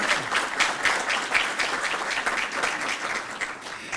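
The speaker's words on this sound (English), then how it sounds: "So let's give all of our panel a round of applause for being here." An audience at a community forum on substance abuse and addiction applauds its panel, with steady, dense clapping that holds at a constant level throughout and no voices over it.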